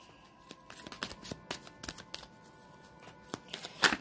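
A deck of cards is shuffled by hand in a quiet room, giving a run of crisp riffling snaps and flutters with a sharper burst near the end.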